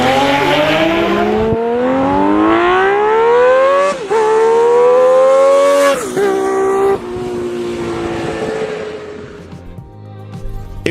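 A loud motorcycle with a six-barrel exhaust and a smooth, balanced engine revs hard, its pitch climbing in several sweeping runs with brief breaks between them, heard up close with no talking.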